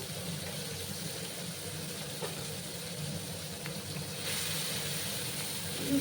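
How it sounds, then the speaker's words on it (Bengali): Small shrimp sizzle steadily in hot oil in a pan, a soft continuous hiss that swells slightly near the end, fairly faint and alone. "তেলটা গরম হয়ে গেছে। এবার আমি চিংড়ি মাছগুলো ভাজবো।"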